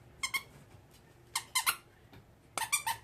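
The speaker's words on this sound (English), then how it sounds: "each one of these little squares has a squeaky in it." A squeaky plush dog toy made of little squares, each holding a squeaker, gives three clusters of sharp, close squeaks, mostly in quick pairs, with quiet gaps between and no voices.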